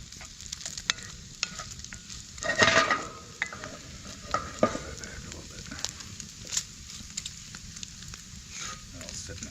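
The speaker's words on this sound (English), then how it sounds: "Oh yeah, starting to crisp up a little bit. It's a hot fire. Don't want to burn the bacon." Bacon crisping in a pan over a hot campfire, a steady close sizzle and crackle with scattered sharp pops and a louder burst of scraping partway through.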